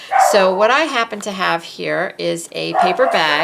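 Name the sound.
dog barking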